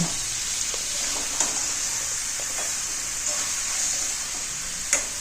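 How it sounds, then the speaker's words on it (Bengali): Potatoes and chicken sautéing in a pan, a steady bright sizzle with intermittent spoon clicks and scrapes as they are stirred, heard alone and fairly close. "এখন আমি আলু ও চিকেন ভালো করে কষিয়ে নেব"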